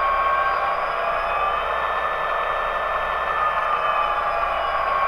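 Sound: model locomotive Tsunami2 sound decoder prime mover dropping to idle

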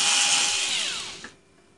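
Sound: screws being removed from HP Pavilion dv7 laptop

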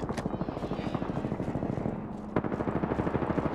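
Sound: gunfire in a video game (battle royale)

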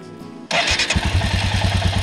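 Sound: motorcycle engine starting and idling

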